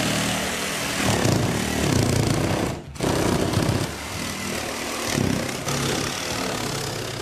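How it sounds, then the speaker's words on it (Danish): A power saw cuts a hole through a ceiling for a wood-burning stove chimney flue, a loud, steady buzzing drone with a brief pause near the middle before the cutting resumes. "Når du har mærket hullet til skorstenen op, kan du gå i gang med at save hul i loftet."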